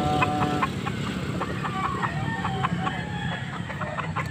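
Roosters cluck and call repeatedly at a Pampanga tiangge market where fighting cocks are offered for sale, several birds close by over steady crowd noise.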